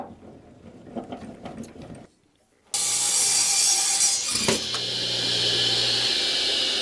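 A radial arm saw cuts through a 2x4: quiet workshop handling sounds, a short silence, then the motor bursts into a loud, steady whine with a brief thud as the blade bites the wood, running on to the end.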